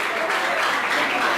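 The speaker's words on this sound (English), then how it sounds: "Please clap for him." An audience at a Lagos State school prefects' summit claps steadily, a dense, even wash of applause filling the room for a brief stretch.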